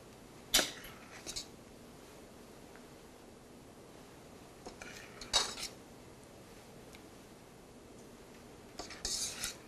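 Soft scraping and clinking of a utensil against a pot and serving dish while mushroom soup is scooped, a few brief bursts separated by quiet pauses, close and fairly faint with no talking.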